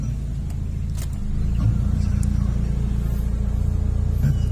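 Car engine running steadily as heard from inside while riding, a low continuous hum that swells slightly louder partway through, with faint interior clicks and no talking.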